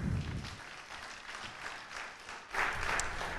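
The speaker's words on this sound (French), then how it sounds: "On peut l'applaudir." A conference audience applauds a guest, the clapping dense and continuous but moderately distant and soft, swelling slightly toward the end.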